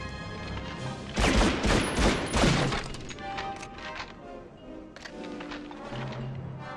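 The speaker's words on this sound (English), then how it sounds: "Machine gun." Automatic gunfire bursts in Medal of Honor: Underground on PS1, a loud cluster of rapid shots early on, followed by scattered lighter shots and game sounds.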